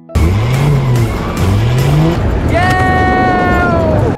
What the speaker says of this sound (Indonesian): 58 kemudian mengetes Saul menyupir mobil.